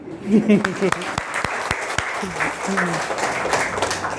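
A scattering of distinct claps from students in a memory-enhancement session, sparse and uneven, heard under a speaking voice.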